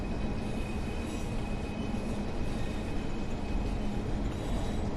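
A Class 142 Pacer diesel multiple unit runs in Train Sim World 6 on a line near Manchester, giving a steady, continuous rumble of engine and wheels on rails, with no talk over it.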